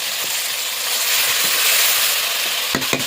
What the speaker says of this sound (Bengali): টমেটোটা ভালো করে প্রায় ভাজা হয়ে গেছে